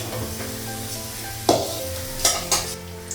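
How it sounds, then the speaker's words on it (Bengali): Green chillies sizzle in hot oil for a dal tempering in a home kitchen, a steady frying hiss broken by a few sharp stirring and utensil clatters. "তেলের মধ্যে হচ্ছে কাঁচা লঙ্কা দিয়েছি"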